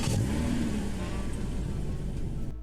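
A 2025 Toyota Camry engine in the game Greenville rumbles steadily at close range, with a brief rising whine at the start before it settles into an even idle.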